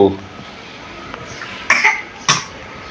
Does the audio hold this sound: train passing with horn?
no